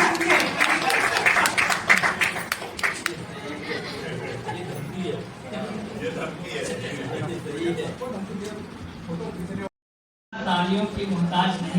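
Audience applause at a Hindi children's poetry book launch, a burst of dense clapping that fades into crowd chatter and speech, with a brief dropout near the end.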